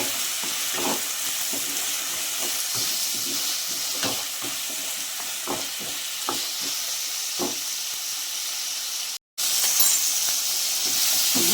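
Palm shoots tossed with salt in a hot pan, sizzling steadily while a spoon scrapes and clinks against the metal in irregular strokes; the frying continues close and even, with a brief break near the end.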